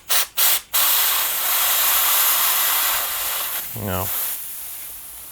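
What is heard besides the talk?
compressor air blast on motorcycle brake piston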